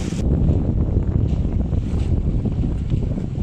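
Strong wind of about 25 knots gusts across a sailboat off Cape Verde, producing a loud, continuous roar and buffeting rumble on the microphone with a faint rush of water underneath and no talking.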